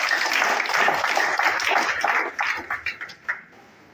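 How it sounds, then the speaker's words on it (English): A crowd at a water-project dedication ceremony in Zolowee Town, Nimba, Liberia, applauds for the CEO of Solway Mining in dense, loud clapping that thins into a few scattered claps and stops. "A big hand clap for the CEO."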